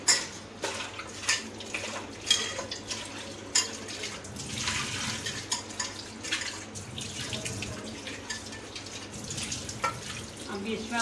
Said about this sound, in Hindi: तो मैं वॉश कर लेती हूँ।